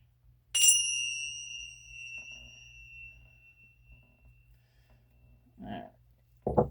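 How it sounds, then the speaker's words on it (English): A small bell or chime is struck once, loud and close, its bright ringing tone sustaining and slowly fading over several seconds, followed later by brief softer rustles and a knock. "I just want to use my bells as well."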